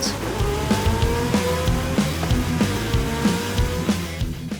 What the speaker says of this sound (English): Next it was the turn of the Porsche 918